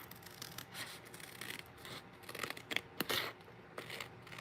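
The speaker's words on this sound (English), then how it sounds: "I'm just gonna trim around the corner here" Craft scissors trim around a corner of paper, giving a series of quiet, close, crisp snips and rustles that come in uneven bursts.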